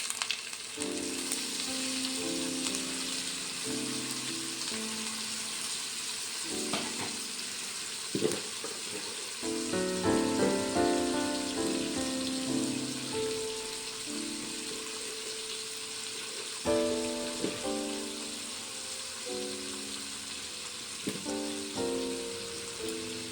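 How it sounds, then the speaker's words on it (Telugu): Tomato and egg curry sizzles and fries in a pan, a soft continuous crackle running throughout beneath bursts of louder tonal sound that come and go. "కొంచెం ఫ్రై అయింది కదండి, ఇందాక కట్ చేసుకున్న టమాటా వేసేసుకుందాం"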